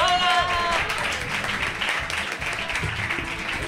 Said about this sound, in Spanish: ¡Un aplauso enorme a Susi!